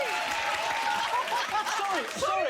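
A television studio audience applauds on a chat show, loud, dense clapping mixed with some laughter, while a person talks over it with rising and falling tones.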